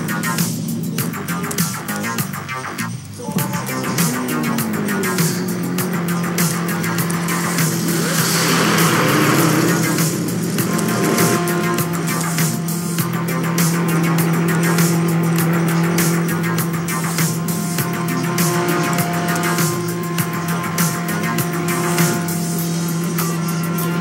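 Cars idling and running steadily at a car show, with a continuous engine drone and low hum throughout, fairly loud and close, with no talking.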